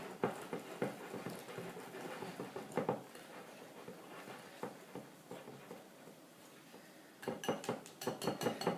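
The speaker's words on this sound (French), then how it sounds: "Donc là, on rajoute le beurre, on retourne bien." Softened butter being folded into cake dough in a bowl, quiet irregular knocks and scrapes of a utensil against the bowl, with a quick cluster of sharper clinks near the end.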